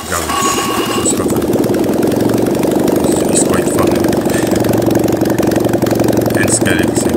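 A Fiat 126p engine runs with a stretched timing chain, a loud, close, steady mechanical chatter and rumble with rapid knocking and rattling throughout, and someone speaks briefly over it.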